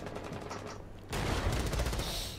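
Gunfire in Rainbow Six Siege during a PC esports match: a dense, loud burst of rapid automatic shots that swells abruptly midway and stays intense to the end.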